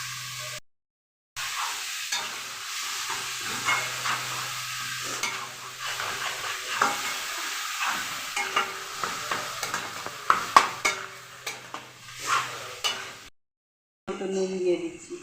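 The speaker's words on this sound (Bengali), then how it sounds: "রসুনটা ভাজা ভাজা হয়ে গেছে, এখন আমি বিটটা দিয়ে দিচ্ছি।" Garlic and beetroot fry in a pan with a continuous soft sizzle, broken by scraping stirs and clinks of a utensil against the pan, with brief silent gaps and some background sound.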